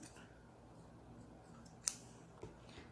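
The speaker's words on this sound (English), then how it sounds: "then you cut your extra yarn" Scissors cut through yarn during crochet work on a granny square glove, producing one faint crisp snip followed a moment later by a softer second click, close by in a quiet room.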